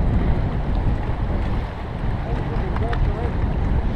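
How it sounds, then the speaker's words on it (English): Choppy, wind-whipped lake water on a blustery day, a continuous rough wash of waves and wind noise buffeting the microphone at steady loudness throughout, with no clear voices. "So choppy today, I've never seen the lake like do this."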